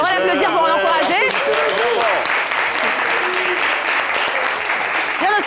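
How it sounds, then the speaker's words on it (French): Studio audience applause on a French-language TV show swells into dense, sustained clapping, with a voice talking over the start and end of it. "on va l'applaudir pour l'encourager."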